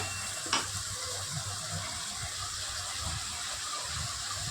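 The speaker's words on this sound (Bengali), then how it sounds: "লঙ্কার গুঁড়ো, জিরে ধনের গুঁড়ো একটু জল দিয়ে গুলে আমি দিয়ে দেব। এবারে ভালো করে মশলাটা কষিয়ে নেব।" A spice paste of chilli, cumin and coriander powder, turmeric and salt mixed with water fries in a pan for chitol fish curry. It gives a steady, close hiss with one small clatter near the start.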